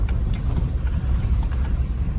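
A vehicle driving along a road beside a lake on an Oregon overland route, with a steady low rumble of engine and road noise and some wind buffeting, no talking.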